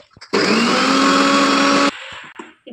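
A kitchen mixer grinds masala paste of coconut and spices with a little added water, running loud and even for about one and a half seconds. It stops abruptly, leaving light clinks and handling noises.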